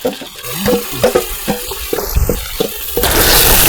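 A spoon scrapes and stirs onion-tomato paste into a pot of fish curry with a few wet clanks, and a sizzling hiss swells near the end.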